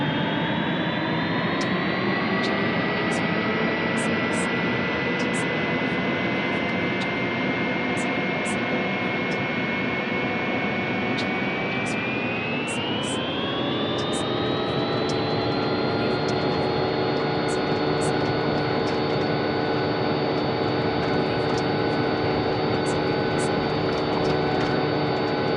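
A Boeing 777-300ER's jet engines roar through the takeoff roll, a loud continuous whine that spools up to a higher pitch about halfway through and then holds steady, with no voices.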